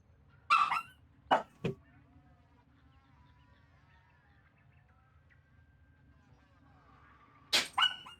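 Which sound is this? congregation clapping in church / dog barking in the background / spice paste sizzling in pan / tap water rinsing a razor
dog barking in the background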